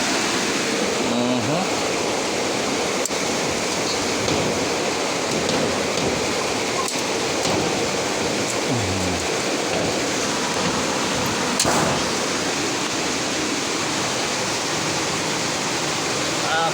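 River water flows in a continuous loud rushing wash, steady and close, with faint voices in the background.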